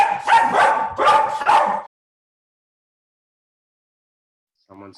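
Dogs barking indoors, a rapid burst of several loud, close barks in quick succession, followed by silence and a faint bit of sound at the end.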